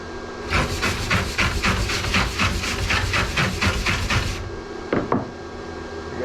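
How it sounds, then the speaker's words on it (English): Someone tries welding for the first time on the steel frame of an Airstream trailer, a steady crackling, sizzling arc that runs for about four seconds with a pulsing rhythm, then stops, followed by a few short sputtering bursts. "here's my first attempt at welding."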